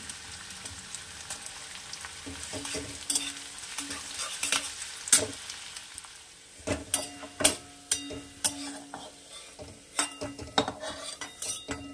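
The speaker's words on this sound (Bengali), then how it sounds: "এটা পুরো লাল করে বেরেস্তা করবো, বেরেস্তা করে তুলে রাখবো।" Sliced onions frying in oil until deep brown for beresta, a continuous sizzle under repeated sharp clinks and scrapes of a metal spatula against the pan, growing busier toward the end.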